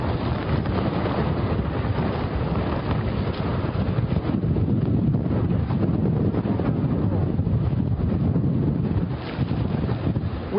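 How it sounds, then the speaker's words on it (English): Strong Hurricane Irma wind roars without a break along Atlantic Avenue at Daytona Beach, a loud, steady buffeting rush that batters the microphone throughout, with no voices heard. "I promise you I'm not over-dramatizing the strength of the winds right here."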